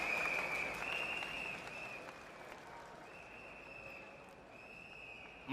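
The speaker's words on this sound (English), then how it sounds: "Let's give him a big round of applause, everybody!" A crowd at an outdoor political rally in Singapore claps and cheers, loud at first and then fading away under a faint sustained whistle-like tone, with a sharp knock right at the end.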